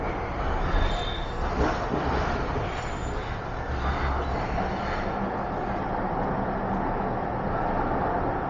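A Vancouver metro train arriving at Lafarge Lake-Douglas terminus in Coquitlam rolls in with a steady, loud rumble and hum that holds at a constant level from start to end.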